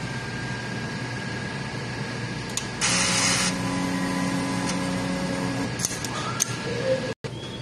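A printer runs its head cleaning cycle: a steady mechanical whir and hum throughout, with a louder spraying hiss midway and small clicks as the cycle proceeds.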